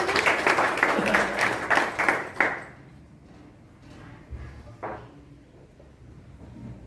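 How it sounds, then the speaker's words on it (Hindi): A burst of audience clapping at an Independence Day school function in India fills the first couple of seconds, then fades out, leaving a quiet room with a few faint knocks. "महोदय का तालियां बजाकर स्वागत करें।"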